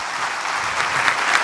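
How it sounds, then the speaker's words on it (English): Dense, steady applause fills a storytelling event hall, a crowd clapping together in a loud, continuous burst with a few sharper claps standing out near the end. "big round of applause for Sean Wisdale."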